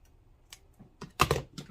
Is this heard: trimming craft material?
yes